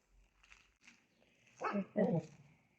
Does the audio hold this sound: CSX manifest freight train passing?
no